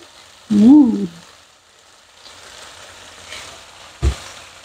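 Clams sizzling in a pan with oyster sauce, a steady close frying hiss broken by a brief loud tonal squeal near the start and a short knock near the end.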